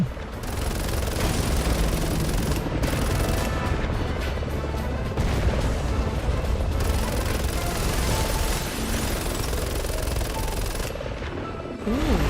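Continuous dense machine gun fire from a helicopter turret in Resident Evil 6, a loud sustained rattling barrage with booms and crashes mixed in, running nearly unbroken for the whole stretch.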